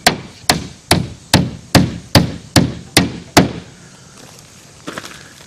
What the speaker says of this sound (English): I'm going to put the nail between the 2 pieces in the butt seam.